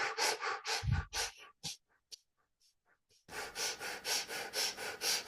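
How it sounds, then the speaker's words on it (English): Rapid, forceful breaths pump in and out through the nose in a fire breathing exercise, close and rhythmic, pausing into quieter breaths before resuming a steady fast cadence. "Deep fire breaths"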